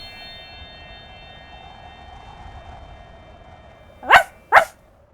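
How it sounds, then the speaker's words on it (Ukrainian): Two sharp dog barks ring out in quick succession near the end, after a quiet stretch with a faint steady hum. "Раптом Ре почув гавкіт Меркурія з іншої кімнати"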